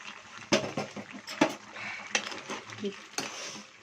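A spoon stirs Godavari-style crab curry bubbling in a pot, with scraping and clinking knocks against the metal at irregular intervals over a soft simmer, close and moderately loud.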